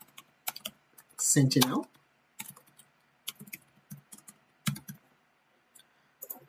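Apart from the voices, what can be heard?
typing on a computer keyboard into a search window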